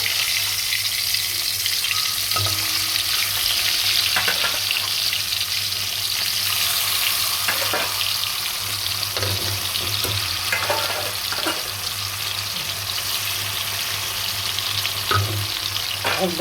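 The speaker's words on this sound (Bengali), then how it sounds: "কড়াই গরম হয়ে গেছে, তেল দিয়ে দিছি। পাঙ্গাস মাছ ভাজবো।" Pangasius fish pieces frying in hot oil in a wok, a steady loud sizzle throughout with occasional stirring clanks and scrapes, no voices.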